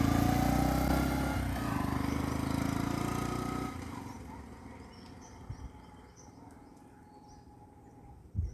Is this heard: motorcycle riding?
yes